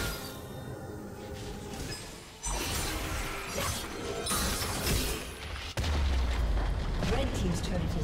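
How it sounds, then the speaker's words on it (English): Crumbling turret destruction in League of Legends, with shattering crashes and booming impacts layered over busy game music and effects, a heavy low thump arriving near the end; a voice talks partway through. "Red team's turret has been destroyed."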